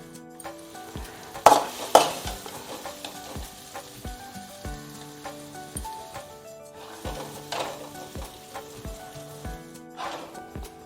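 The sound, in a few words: gongura leaves being fried and stirred in a pan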